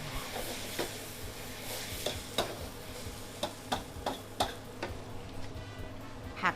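Vegetables stir-fried for pad thai in a hot pan: a steady sizzle broken by irregular clinks and scrapes of a utensil against the pan, close up and with no talking.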